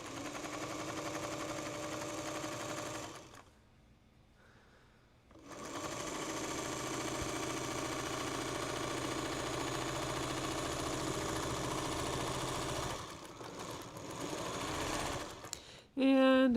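A home sewing machine stitching log cabin quilt blocks hums loudly and steadily up close, stops for about two seconds, then resumes its continuous mechanical drone before stopping and starting again near the end.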